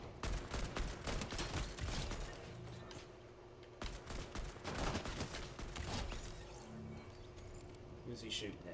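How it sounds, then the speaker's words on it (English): Video-game gunfire crackles in dense, rapid bursts and scattered single shots, mixed low under people talking, with a louder volley in the middle. "Who's he shooting at?"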